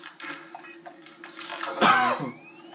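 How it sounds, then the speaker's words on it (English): A single rough cough bursts out amid faint background murmur, fairly close and moderately loud. "Sorry, I still got this minor cough"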